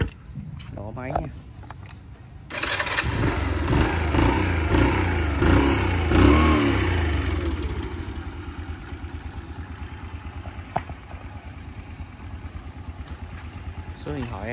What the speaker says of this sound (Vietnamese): Nổ máy nha.